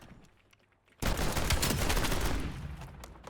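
Shotgun fire in a first-person shooter game playing Search mode, a sudden loud burst of rapid overlapping blasts after a quiet second, sustained and then tapering off.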